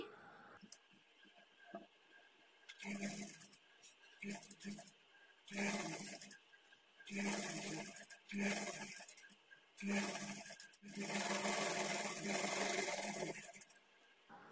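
Quiet bursts of a sewing machine stitching a plain blouse sleeve onto the shoulder seam, starting and stopping repeatedly before settling into a longer steady run near the end.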